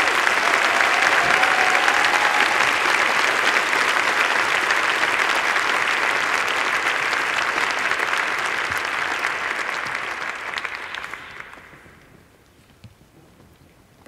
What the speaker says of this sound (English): Please join me in a round of applause for the graduates.